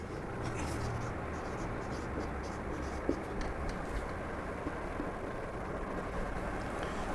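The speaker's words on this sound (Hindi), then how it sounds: "चलिए मैं 10 कंसेक्यूटिव नंबर लिख रहा हूँ।" Pen scratching out numbers on paper, a soft steady scribble close to the mic under a faint background hum, with brief quiet speech.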